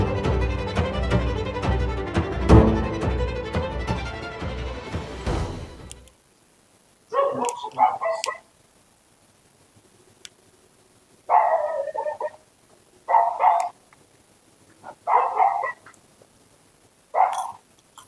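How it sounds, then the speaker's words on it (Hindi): A dog barks in short bursts, about five separate volleys spaced a second or two apart and fairly close, after a stretch of music fades out at the start. "ये साला कुत्ता भौंकता ही रहता है।"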